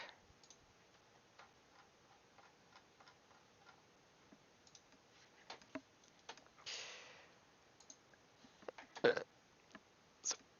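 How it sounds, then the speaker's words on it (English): A single burp bursts out around the middle, set among a quiet room's faint ticks and clicks, with a sharper belch-like blip just after and one more near the end. "sorry for the burp."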